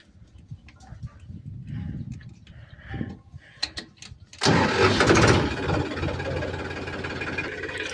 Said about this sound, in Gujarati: હમણાં ટાઈગર જેમ અવાજ કાઢીએ આપણું ટ્રેક્ટર